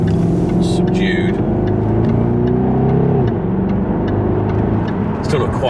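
Deep, steady V8 exhaust rumble from a Jaguar with its subdued stock exhaust, droning continuously up close as the car drives, with faint higher sounds drifting in.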